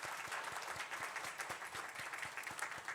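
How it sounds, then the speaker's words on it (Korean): A church congregation applauds to welcome a family with a baby during a Sunday service, giving quiet, distant, steady clapping throughout. "우리 박수로 환영하시기 바랍니다"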